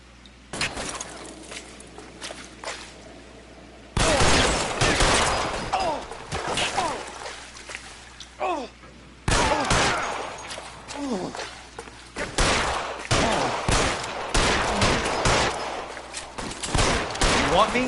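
Gunfire in the video game L.A. Noire: loud, repeated bursts of shots and rapid volleys, close and harsh, coming in several separate clusters with brief quieter gaps between them.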